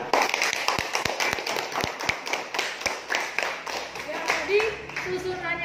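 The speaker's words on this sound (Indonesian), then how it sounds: "Tepuk tangan buat Isna" Applause from pupils in a classroom, scattered sharp claps that start sparse and uneven, then blur together, with voices and shuffling in the room toward the end.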